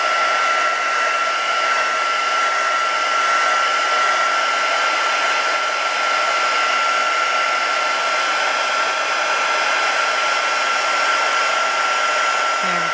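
A hair dryer blows steadily and loudly for the whole stretch, a constant whir with a fixed high whine, used to heat acetate for a metallic gold triple-layer card; no voices break through.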